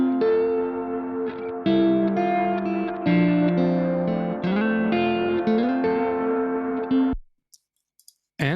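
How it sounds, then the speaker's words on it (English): Electric guitar run through a Kemper Profiler with a new gritty, dirty delay effect, playing sustained distorted notes and chords with echoing repeats for about seven seconds before cutting off, followed by a few faint clicks. "the new delay adds a lot of gritty, dirty sounds"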